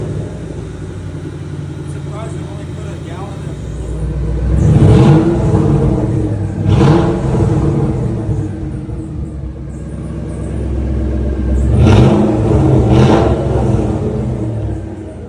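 A 2003 Ford Mustang Mach 1 engine, newly replaced, runs with a deep rumble, revving up in several surges and settling back between them, with voices talking over it.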